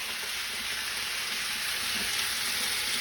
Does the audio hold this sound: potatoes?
yes